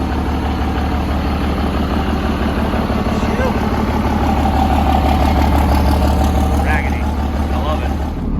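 A burnout truck's engine idles steadily just after starting, a loud, even low rumble running throughout with no revving.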